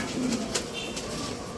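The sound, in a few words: French meat pigeons cooing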